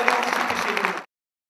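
A crowd breaks into applause as an elderly woman returns to her seat at a gathering attended by the governor; a dense, steady burst of clapping lasts about a second and then cuts off abruptly.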